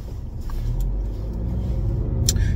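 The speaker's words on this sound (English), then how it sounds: "in the land of unnecessary traffic" Road traffic heard from around a car on a busy afternoon drive, with a steady low engine and tyre rumble close by and a few faint passing swishes, no speech.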